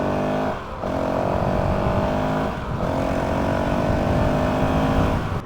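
Honda CRF 450 RL dirt bike with a GET ECU and stock exhaust, a loud close engine held at steady high revs, dipping briefly twice before climbing back up.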